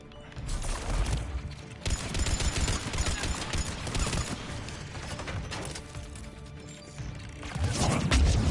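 Gunfire in the game Mass Effect 3 comes as dense, sustained bursts of rapid shots mixed with crashing impacts, loud and near, with brief pauses between volleys.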